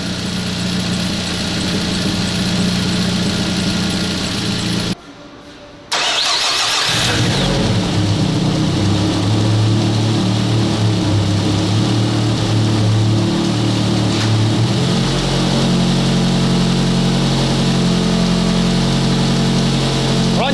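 A Nissan Primera car engine runs loudly, cuts out briefly, then restarts and settles into a steady idle while warming up, its tone deepening near the end.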